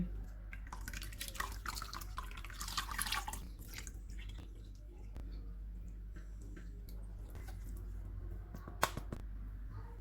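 Water is poured over cooked sago pearls sitting in a strainer, a brief close splashing rush followed by scattered drips and trickles, with no talking.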